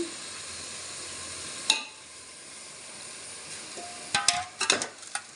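Washed chicken pieces hitting a hot pan of oil for biryani, a steady sizzle and hiss with a sharp drop-in sound early on and a cluster of clinks and stirring scrapes toward the end, close and moderately loud.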